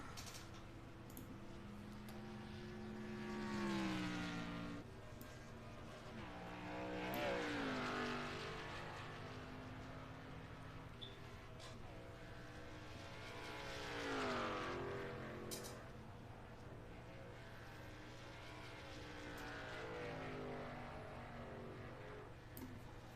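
A race car engine at Charlotte runs a timed lap during Thursday night World 600 qualifying. Gear changes sweep up and down in pitch, and the engine swells loud as the car passes near about three times, fading between passes.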